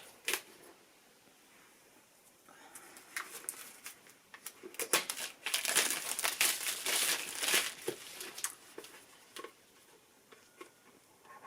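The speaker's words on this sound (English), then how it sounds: "Take off the plastic wrap." Plastic wrap is peeled and crinkled off a package: faint rustling at first, building into a loud burst of crackling in the middle, then tapering into scattered crinkles.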